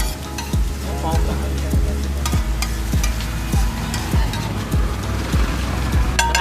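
Chilli masala with onion and garlic-ginger paste frying in hot oil at a street vada pav stall, a steady sizzle under repeated rhythmic scraping and stirring strokes of a spatula in the pan.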